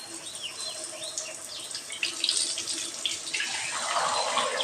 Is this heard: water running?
yes